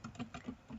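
Rapid, soft clicking of keys on a computer keyboard as a project name is typed in NetBeans, a short quick run of keystrokes, close and quiet.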